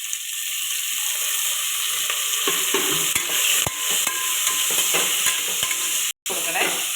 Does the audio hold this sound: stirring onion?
yes